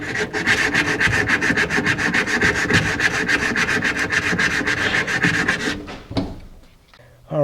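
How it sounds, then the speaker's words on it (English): Rapid back-and-forth strokes of sanding rub across the back of a wooden panel, loud and close for about six seconds before stopping, with a couple of clunks after. "Now I need to get behind there and sand this, the back of this to get a nice smooth"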